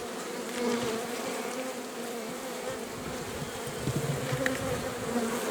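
Steady, dense buzzing of many honey bees, continuous and close, with a low hum throughout and no voices.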